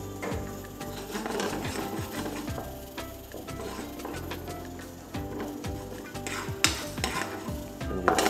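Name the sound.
onion frying and sizzling in a pan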